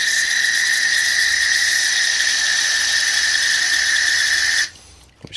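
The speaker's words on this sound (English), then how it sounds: "we'll get some carb spray and we'll go through all of the ports on here" Carburetor cleaner sprayed through the jets and ports of a Honda-powered commercial push mower's carburetor, a loud, steady high-pitched hiss holding for several seconds before cutting off abruptly.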